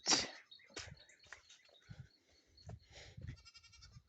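Several goats bleat in short, uneven calls at close range on a farm, with quiet gaps and faint outdoor sounds between them.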